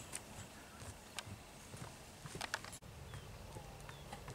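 A Moro horse walks slowly with a distinctive gait, its hooves clip-clopping in an irregular rhythm at a moderate distance, faint over an outdoor background with occasional birds.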